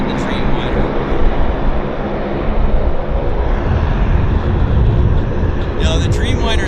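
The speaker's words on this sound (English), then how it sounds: "No, the Dreamliner's rolling." A Boeing 787 Dreamliner airliner rolls down the runway at Vancouver airport, a loud sustained jet engine roar with broadband rumble that holds steady throughout, heard from a spotting position.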